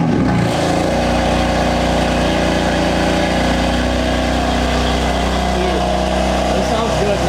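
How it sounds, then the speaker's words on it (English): A BMW M4 with a full aftermarket exhaust, valves closed, fires up with a loud burst and settles into a steady, deep idle close by, with people talking over it. "First start up with the full exhaust on. Do valves closed first."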